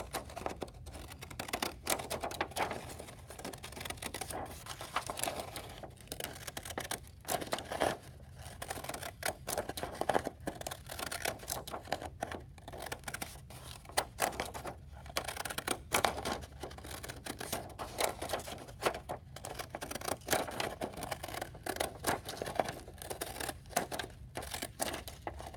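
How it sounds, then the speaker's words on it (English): Fancy scissors snip along a line cut into paper for a snowflake, giving a dense run of small, close, crisp clicks and rustles that repeat steadily without a break. "we'll take the fancy scissors and we'll very carefully cut right along"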